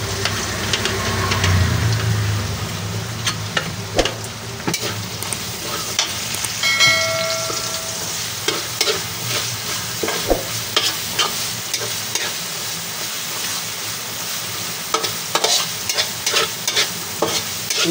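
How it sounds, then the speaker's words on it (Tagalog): Onion, garlic and tomato sauté in a pan for a large batch of pork Bicol Express, with a continuous close sizzle and repeated scraping strokes of a spatula throughout. "hintayin lang po natin lumabas yung aroma ng ating paggigisa ng sibuyas, bawang, kamatis"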